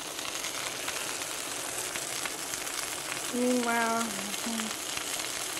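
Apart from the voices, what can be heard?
sausage with Italian seasoning sizzling in a pan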